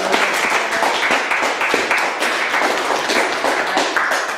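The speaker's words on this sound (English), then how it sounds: "Give yourselves a round of applause." An audience at a performance event claps in a continuous, fairly close round of applause, with individual hand claps standing out within the crowd sound.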